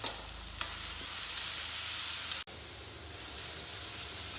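Onions fry with garlic and green chillies in a pan for fish biryani. The sizzle is close and steady, with a couple of scraping stirs near the start, then it drops sharply and carries on more quietly.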